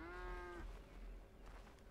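A single drawn-out cow moo from Red Dead Redemption 2, heard close and clear on a ranch during milking, lasting just over half a second and then trailing off into quiet farmyard ambience.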